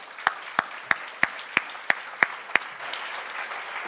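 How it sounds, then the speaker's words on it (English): Steady, evenly spaced hand claps from an audience at a charity giving celebration, about eight sharp claps in a row before trailing off into quiet room noise. "Another round of applause for that."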